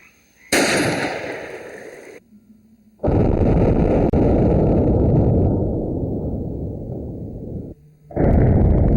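A Remington shotgun with about two inches of mud plugging the barrel goes off outdoors in one loud, sharp blast, followed by a long rumbling decay and later more heavy bursts.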